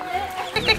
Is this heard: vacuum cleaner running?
no